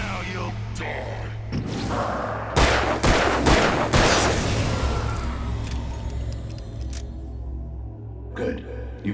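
Gunfire in the Alan Wake video game, a rapid volley of sharp shots around the middle of the clip over a low steady hum, with faint game sounds after.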